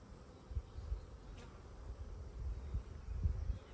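A low, continuous drone of honeybees around beehive frames during a Demaree split on a farm, fairly quiet and unbroken, with a few slightly louder swells and no voices.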